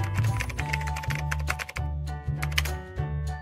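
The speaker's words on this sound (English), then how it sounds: "Type dancing banana in the search bar" Keys are typed on a computer keyboard in a quick run of clicks and taps. The typing is faint and sits under a looping background music track, with no talk.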